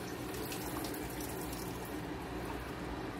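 Water runs from a kitchen tap over freshly cut vegetables, a continuous, even splashing hiss close by.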